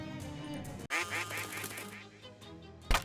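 Ducks in the game Shadows over Loathing quack in a short burst of nasal honking calls, loud and near, amid game music and effects.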